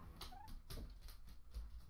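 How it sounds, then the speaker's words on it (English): A pet dog barks a few short yips and whimpery woofs in the background, faint and indoors over quiet music. "And my dog's barking at something."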